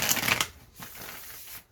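A brief burst of tarot cards being riffled and shuffled, close and crisp, then quieter handling noise.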